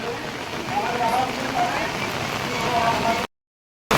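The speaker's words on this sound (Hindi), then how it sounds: "देख सकते हैं हर की पौड़ी के घाटों पर बिल्कुल घनघोर बारिश हो रही है।" Heavy rain pouring down on the Har Ki Pauri ghats in Haridwar, a dense steady hiss of downpour on surfaces, loud and continuous before cutting out abruptly near the end.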